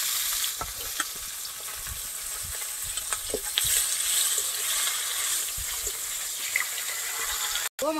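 Japanese puti fish fry in oil with a continuous sizzle, broken by occasional pops and spatters and a brief cutoff just before the end, with no talk over it.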